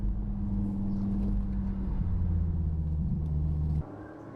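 A Dodge Viper drives an autocross course, its engine giving a steady low rumble that holds even and close for most of the run, shifts pitch slightly partway through, then drops off abruptly near the end.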